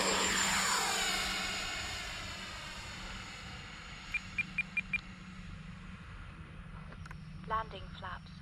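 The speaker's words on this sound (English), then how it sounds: "Gonna take off with no flaps." A Marlin aircraft in a flight game rolls for takeoff without flaps, its engine a steady broad roar that swells at the start and eases back, with a few small clicks and a faint voice in the background.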